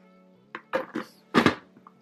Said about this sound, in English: Then we're gonna remove the lid.